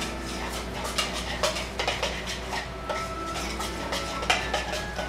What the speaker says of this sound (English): So now we're just going to mix this up.